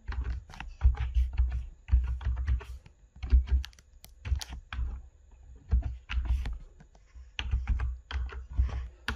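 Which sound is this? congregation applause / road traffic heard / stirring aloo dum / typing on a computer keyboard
typing on a computer keyboard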